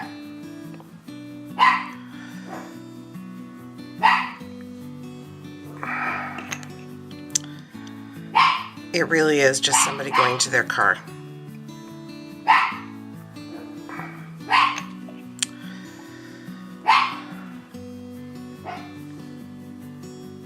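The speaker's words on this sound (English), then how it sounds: "Sorry, there is going to be barking in the background." A dog barks in short bursts every couple of seconds, with a flurry of yips and whimpers midway, under a low steady hum and a brief voice.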